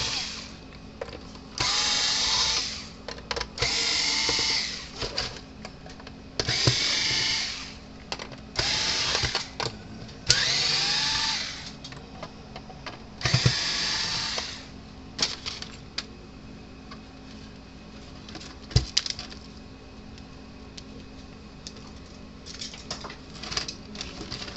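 Screws being backed out of the plastic casing of a Speedrite Delta 3 electric fence charger during a repair, giving several bursts of close, rattling driver whir separated by short pauses and quieter handling noises.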